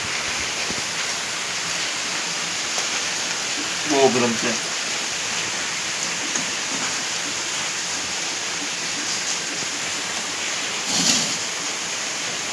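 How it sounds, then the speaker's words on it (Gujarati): Heavy rain pours outside a home kitchen during the monsoon, a steady, dense wash of hiss that fills the whole stretch, with a woman's brief speech over it. "વરસાદ બહુ વરસે છે મારે ત્યાં, અને વરસાદનો અવાજ પણ આવતો છે."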